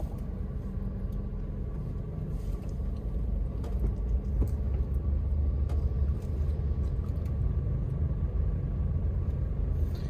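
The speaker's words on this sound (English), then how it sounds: "Just loads more traffic." Steady, dense rumble of busy road traffic in Limbang, Malaysia, with cars passing continuously at close to middle distance and a constant engine drone, no voices.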